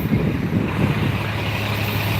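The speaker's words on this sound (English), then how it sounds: "this New York City bus kicking out those diesel fumes" A New York City diesel bus on Sixth Avenue, its engine rumbling low and steady close by amid busy midtown traffic noise.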